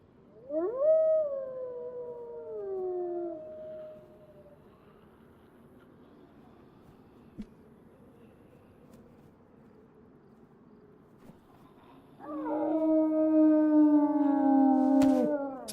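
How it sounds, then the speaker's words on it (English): Wolves in the video game DayZ let out two long, wavering howl-like calls, the first fading after a few seconds and the second swelling louder near the end, separated by a quiet stretch of faint ambient noise. "Oh, I think I can hear the growling."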